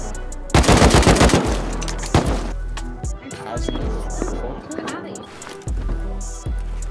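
AK assault rifle gunfire in the video game Rust, a loud close burst of rapid automatic shots followed by scattered single cracks, with players talking over the action.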